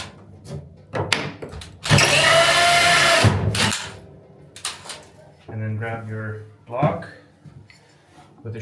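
A power drill with a hole saw finishes boring through sauna wood from the inside in a short loud burst of about a second and a half, surrounded by handling knocks, bumps and quieter clatter.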